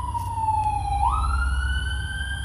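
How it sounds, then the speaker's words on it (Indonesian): An ambulance siren passes at night beside a lake, one loud wailing tone that sweeps down and then swings back up into a steady high wail over low traffic rumble. "ada ambulans"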